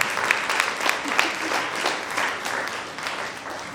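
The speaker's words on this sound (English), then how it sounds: "Give that a round of applause." A large crowd applauds at a 2019 high school graduation ceremony for Columbus City Schools, steady dense clapping filling the hall at moderate volume throughout, with faint voices mixed in.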